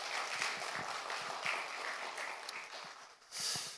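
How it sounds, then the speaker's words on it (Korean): Church congregation applauding together after a sermon, a steady wash of clapping that swells briefly louder near the end, with no talk over it. "우리 다시 한번 하나님께 영광의 박수 돌리겠습니다."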